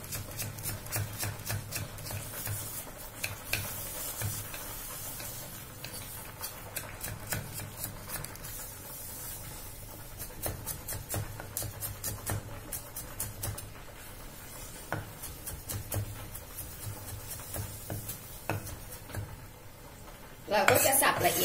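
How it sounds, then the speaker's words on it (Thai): Rapid, steady knife chopping of carrot finely on a board, repeated fast taps for a long stretch, with occasional clinks of utensils. "เราก็จะสับละเอียดอย่างนี้นะคะ"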